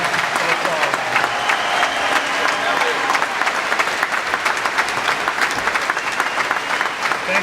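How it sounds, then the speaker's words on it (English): A crowd claps at a high school graduation ceremony as honor students are recognized, sustained dense applause filling the hall at even loudness throughout. "And now we can give them a round of applause."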